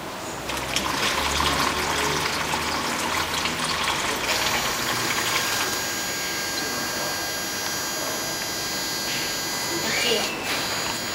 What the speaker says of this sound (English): now I will put the water into the well